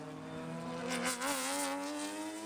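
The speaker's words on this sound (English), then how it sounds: "Those cars sound great. They're awfully quick down the straightaway" Race cars at COTA during GT/GP endurance qualifying blast past with a loud, sustained high-pitched engine howl whose pitch wavers and then drops slightly as they go by.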